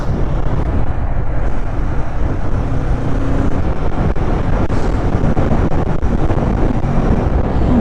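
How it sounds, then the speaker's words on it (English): A Kawasaki Z650 motorcycle rides along an airport road, its steady engine and road noise loud and constant, buffeted by heavy wind rush across the microphone throughout. "Z650 on the airport road, let's go!"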